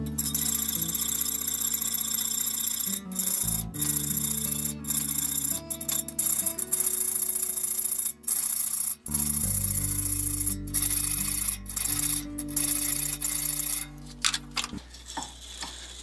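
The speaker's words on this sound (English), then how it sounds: "Just using a round rat tail file." Round rat tail file rounding the gullets between the coarse teeth of a champion-tooth two-man crosscut saw, with repeated rasping strokes in a steady rhythm, close up and with no voices.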